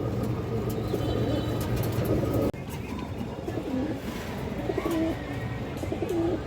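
Pigeons for sale, including Bagha and other fancy breeds, coo repeatedly up close in soft, rolling phrases over a steady background hum.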